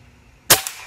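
An air rifle, a Bocap Predator, fires one sharp, loud, close crack after a quiet pause, followed by a short, fainter tick as the pellet strikes the target.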